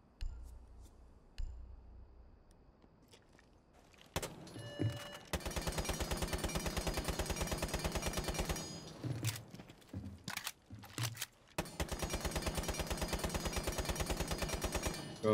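Bursts of SMG gunfire from Kavera's weapon in Rainbow Six Siege, loud sustained automatic strings with brief pauses between them, following a quieter stretch of scattered clicks and handling sounds.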